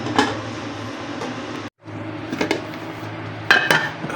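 A metal lid clanks back onto a cooking pot of crab and squash, one clear clatter followed by a couple of lighter knocks and scrapes, close and alone.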